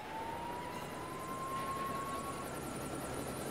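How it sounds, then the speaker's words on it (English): Police helicopter flying in the Nintendo Switch game Lego City Undercover, a continuous, steady rotor drone with a thin rising whine over it, even in loudness throughout and with no talk. "Alright, time to fly a helicopter."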